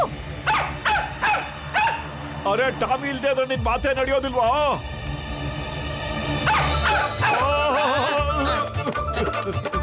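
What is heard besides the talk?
cartoon dog barking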